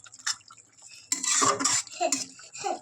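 A spoon stirs vegetarian ridge gourd poppy-seed curry with tomatoes and chopped coriander in a pan, making close, irregular metallic scrapes and wet knocks.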